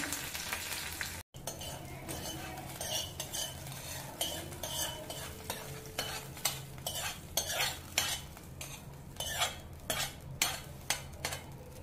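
A spoon stirs curry leaves and tempering through curd rice in a pan, giving a steady series of scraping, clinking strokes over a soft sizzle, close and fairly loud, with no talking.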